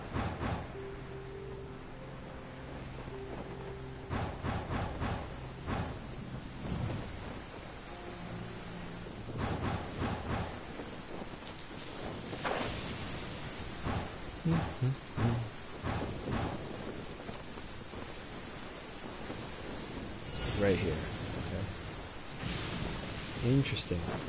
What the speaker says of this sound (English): And it's raining, so there you go.